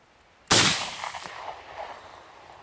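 A single loud shotgun blast from an IZh-K 32-gauge firing a Leningradka slug cracks sharply outdoors, then its echo rolls away and fades over about two seconds.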